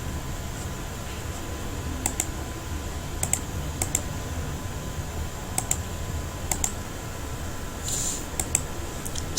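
Keys on a computer keyboard are tapped in short clustered bursts of clicks, close and fairly clear, separated by pauses over a steady low background hum.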